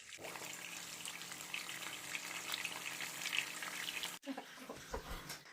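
Steady crackling sizzle of fish frying in hot olive oil, continuous and close, with a brief break near the end followed by a few clinks and knocks.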